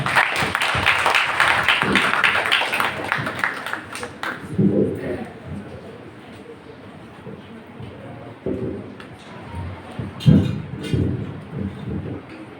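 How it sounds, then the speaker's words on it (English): An audience at an international academic conference at a college applauds to welcome the President of Samtse College of Education, Royal University of Bhutan. A dense, loud burst of clapping fades over several seconds into murmuring and rustle, with voices heard. "A big round of clap for him."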